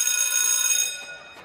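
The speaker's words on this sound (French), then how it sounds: "La sonnerie retentit à 8h." A school bell rings loudly and steadily for nearly a second with a bright, buzzing metallic tone, then cuts off and decays, in an old open-air beach school in Barcelona.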